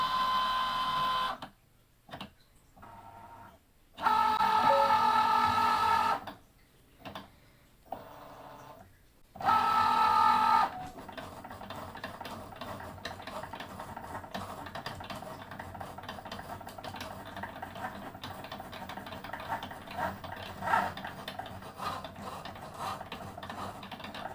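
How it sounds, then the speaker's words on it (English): A Cricut cutting machine whirs and clicks as it reads registration marks and then cuts printable iron-on for a tote bag, with bursts of motor movement separated by pauses, then a steadier mechanical run. "first it's going to go ahead and read the registration marks around before it begins to cut"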